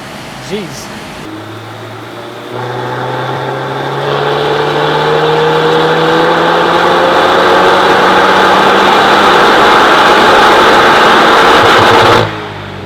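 A car engine drones steadily and loudly at high revs for about ten seconds, rising in pitch early on, then cuts off abruptly, with no burbling clearly standing apart.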